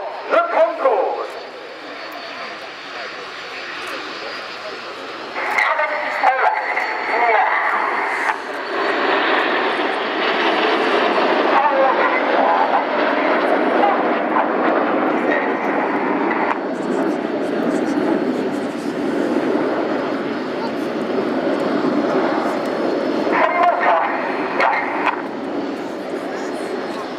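Red Arrows jets flying in Concorde formation at the Royal International Air Tattoo air show, a steady loud roar of jet engines lasting throughout, with a commentator talking over it.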